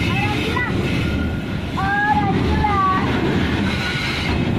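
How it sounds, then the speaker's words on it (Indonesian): A coal freight train rolls into a curved siding track, its wheels squealing in several high, wavering screeches over a steady low rumble of the wagons passing close by. "kereta api batubara masuk jalur belok"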